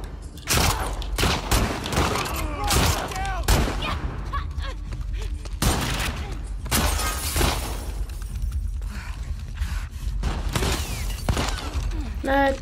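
Gunfire in The Last of Us Part II, sharp shots and rattling bursts spread through the stretch, some loud and close, with shattering and mechanical clanks between them.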